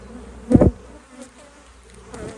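Honey bees buzz around a hive super being set back on a hive, a brief louder burst of buzzing standing out against a faint, steady hum.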